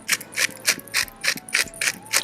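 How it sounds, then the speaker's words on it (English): A pepper grinder is twisted over smash burger sliders, giving about eight quick ratcheting crunches in a steady rhythm, close and fairly clear with no talk. "We're going to ground some pepper."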